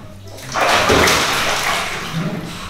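Water gushes loudly into a deep bathtub in a rushing, splashing surge that swells quickly and then settles into a steady pour.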